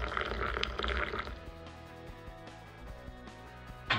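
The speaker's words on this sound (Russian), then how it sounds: "заливаем водой" Hot water is poured over goji berry tea in a mug at close range, a liquid splash and fill sound that starts strong and settles into quieter trickling, with a clink near the end.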